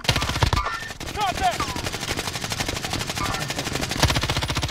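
Automatic gunfire in the video game Warzone, rapid machine-gun bursts repeating in a fast, continuous rhythm, loud and close, with a voice speaking briefly over the shooting.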